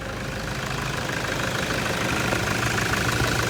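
A Toyota Fortuner engine idles steadily just after starting, a close, even mid-to-low rumble with a slight knocking texture, with no talk.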